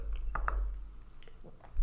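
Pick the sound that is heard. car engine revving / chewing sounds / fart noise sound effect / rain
chewing sounds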